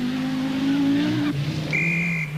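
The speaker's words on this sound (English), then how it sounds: "her 500 horsepower Audi Quattro Sport, the most powerful machine in the rally" A 500-horsepower Audi Quattro Sport rally car on the 1984 RAC Rally in Great Britain roars past, its engine note climbing then dropping sharply at a gear change before a high whining tone follows, loud and close.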